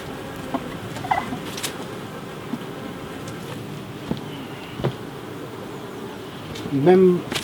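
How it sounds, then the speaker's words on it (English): Many bees swarm inside an opened hive, giving off a low, continuous buzzing hum with occasional louder passes near the microphone; a voice briefly sounds near the end. "Oh, there's a lot of bees in there though."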